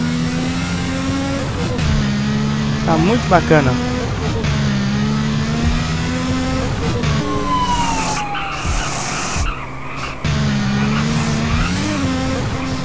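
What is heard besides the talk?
exhaust backfire explosions from a car in GTA video game mod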